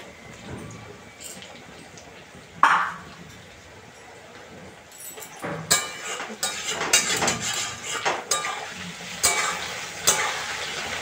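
Potatoes frying in a pan in a home kitchen, with a steady sizzle under scattered metallic clinks and scrapes of a utensil stirring, busier in the second half; no talk.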